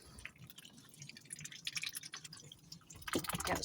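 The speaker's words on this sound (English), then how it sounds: "Actually, I love the sound of ducks eating." Ducks eat food in their pen at night, making quick wet dabbling and slurping sounds, close and fairly faint, with a louder flurry of splashy gobbling near the end.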